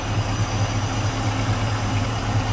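A 1963 Ford Fairlane 500 with a 302 V8 and automatic transmission idles nearby, giving a steady, loud, low, throbbing burble with an even pulse throughout.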